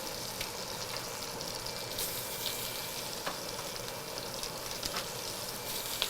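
Dark-meat chicken pieces sizzle skin side down in a hot pan for a garlic chicken dish, a steady, dense frying crackle with scattered pops, close and continuous with no voices.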